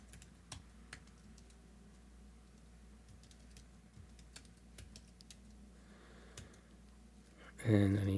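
A computer keyboard being typed on to enter a password during a Raspberry Pi setup, giving sparse, quiet key clicks with a louder noise burst at the end.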